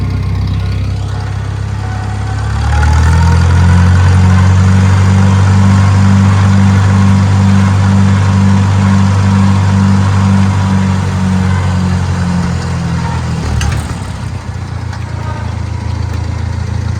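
A tractor engine powering a Kuhn rotary rake runs close and loud, idling low then rising to a steady throbbing hum when given more throttle, holding for about ten seconds before dropping back with a clunk.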